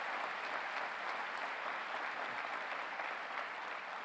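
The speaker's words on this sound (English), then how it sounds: "Let's give Mr. Jacobs and the Jacobs family a round of applause." An audience applauds at a 2018 State of the City address in Buffalo, a steady unbroken wash of many hands clapping, fairly distant and subdued throughout.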